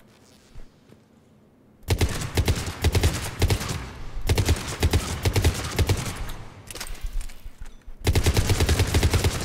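Cerberus Harrier rifle firing in Mass Effect 3, loud rapid bursts of shots in three clusters separated by brief pauses, with a single word spoken early.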